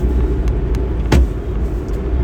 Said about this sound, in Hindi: अपनी सिलेरियो गाड़ी से